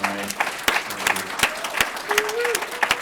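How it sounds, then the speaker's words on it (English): Ongoing audience applause at a poetry reading, with sharp individual claps over a steady clapping bed and a voice speaking briefly underneath. "just keep the applause going"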